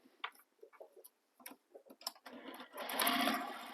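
A sewing machine basting a stabilizer sandwich for a crossbody bag with a long stitch length runs close up, in short separated bursts of stitching that give way to a longer, louder continuous run at the end.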